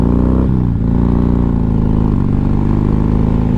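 A Harley-Davidson Road Glide bagger's engine drones loud and close, its low rumble shifting pitch in a few steps as the rider works the clutch.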